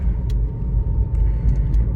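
A Nissan Versa with a four-cylinder engine and flood damage, suffering limp-mode trouble, drives along with a steady low road rumble and engine drone, a few faint high clicks over the top.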